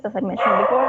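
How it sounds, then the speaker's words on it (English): A dog barks and whines briefly in the background during an online class lecture, partly covered by a person talking. "Sorry if you can hear my dog barking."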